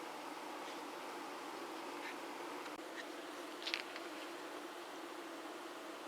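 Honeybees at a hive treated with Thymovar buzzing and fanning, a steady, fairly faint drone heard close by with no talking, briefly marked by a nearer bee passing.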